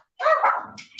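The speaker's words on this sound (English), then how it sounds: "I'm sorry about my dogs." Pet dogs give a short, loud, close bark with a whiny edge, followed by a brief yip, heard alone without talk.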